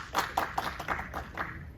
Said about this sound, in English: I don't think I've ever gotten people clapping for something